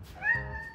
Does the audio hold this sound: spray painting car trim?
no